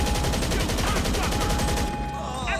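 Rapid automatic gunfire in GTA 5 hammers out as a dense, loud, continuous burst for about two seconds, then cuts to a ringing tail. A voice is faintly present.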